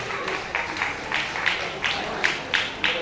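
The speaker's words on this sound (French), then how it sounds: "Valdani Niaho, qu'on applaudit encore" Scattered applause from an audience at a singing competition quarterfinal, with distinct claps and small bursts rising over a low murmur, moderately distant and fairly faint.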